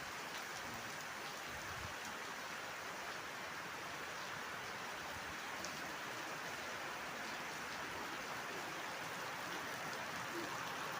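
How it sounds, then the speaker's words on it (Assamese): Continuous, even rainfall hissing over everything, a dense wash of drops with no other clear sounds. "আৰু পূৰা বৰষুণ দি আছে"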